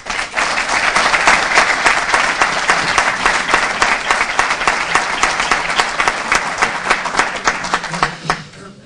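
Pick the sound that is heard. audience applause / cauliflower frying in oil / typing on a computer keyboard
audience applause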